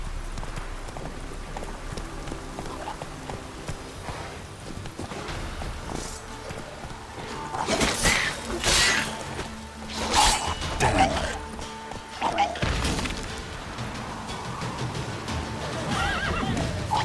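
Roach, a horse in The Witcher 3, neighs and whinnies repeatedly over a steady background of game ambience, with faint galloping hooves mixed underneath.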